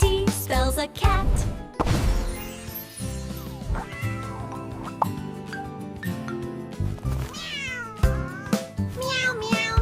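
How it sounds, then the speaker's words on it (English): A cartoon cat meows repeatedly over a busy children's phonics song with music throughout, the meows loud and close within the mix. "Meow, meow, meow. Says the cat"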